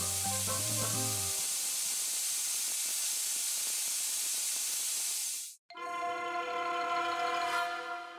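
A pressure cooker on a home stove lets out a long, loud steam hiss that breaks into a shrill, tonal whistle, close by and alone.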